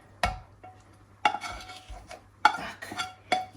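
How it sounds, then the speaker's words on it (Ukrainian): Four sharp metallic clinks of a spoon against a bowl sound at uneven intervals as the remaining mushrooms for a cheese-and-mushroom spread are scooped in, with soft scraping between the hits. "І зараз викладаю решту грибів наших"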